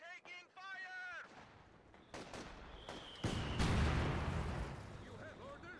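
Gunfire and artillery blasts in the World War II strategy game Company of Heroes 2, Soviets versus Germans, a string of sharp bursts and booming impacts after a short voice line, with another voice near the end.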